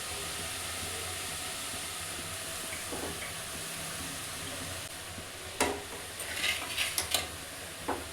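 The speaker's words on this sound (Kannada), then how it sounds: "ಇದನ್ನ ಇವಾಗ ನೀಟಾಗಿ ಫ್ರೈ ಮಾಡ್ಕೋಬೇಕಾಗತ್ತೆ." Radish greens fry in oil in a pan under a steady low sizzle, and a spoon scrapes and clatters against the pan in a quick cluster of stirring strokes toward the end, close and fairly quiet.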